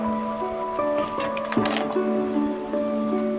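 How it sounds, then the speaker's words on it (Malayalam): Roasted nuts dropped into cooked carrot halwa in a pan give a brief, soft squishy thud over steady background music. "നമുക്ക് നേരത്തെ റോസ്റ്റ് ചെയ്ത് വെച്ചിട്ടുള്ള നട്ട്സ് ആഡ് ചെയ്ത് കൊടുക്കാം"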